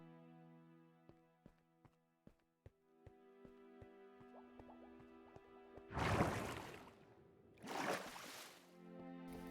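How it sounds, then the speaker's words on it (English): Minecraft water elevator, heard as soft dripping plinks over background game music, then two loud rushing whooshes of bubbling water. "We'll go up in the good old-fashioned water elevator right behind me and explore the lobby."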